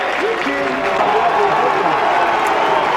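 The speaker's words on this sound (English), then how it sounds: "UNA crowd starting to get into it" A college football stadium crowd at a University of North Alabama game, heard as a broad, steady roar of cheering and applause with a commentator's voice running over it throughout.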